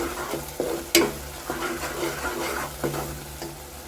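Jackfruit cooks down in jaggery syrup in a pan, giving a soft bubbling sizzle broken by repeated close scrapes and knocks of a spoon stirring, with one sharp clatter near the start.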